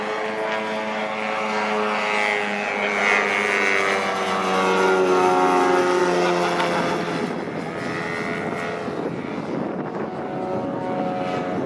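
Radio-controlled model airplane flying a rolling circle at a fly-in, its propeller engine a steady, moderately distant drone that swells and fades slightly as it circles, alone with no talk.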